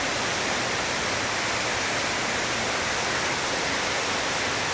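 An indoor waterfall along a riverboat ride at the Grand Ole Opry Hotel gives off a steady, loud, broadband rush of falling water that fills the whole clip without a pause.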